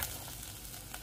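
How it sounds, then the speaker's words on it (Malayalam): Chicken pieces hit hot garam masala in a pan, giving a steady close sizzle with faint stirring scrapes throughout a brief moment. "ഇനി അതൊന്ന് മിക്സ് ആക്കിയിട്ട് ഇതിലേക്ക് നമുക്ക് ചിക്കൻ ഇട്ട് കൊടുക്കാം"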